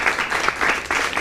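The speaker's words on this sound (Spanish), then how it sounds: "quiero que escuches un fuerte aplauso de todos los alumnos de la Universidad San Ignacio de Loyola" University students at the Universidad San Ignacio de Loyola give a strong round of applause, a dense, continuous patter of many hands clapping at once, loud and steady for the whole moment.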